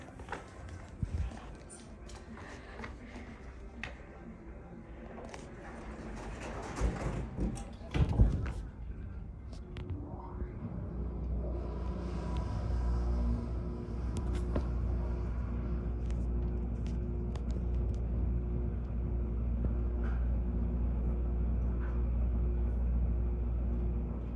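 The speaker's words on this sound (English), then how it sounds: "we're gonna listen" Otis elevator motor at Springfield Mall in Springfield, PA, running as a steady low hum that builds after about ten seconds and holds, with scattered footsteps and knocks beforehand.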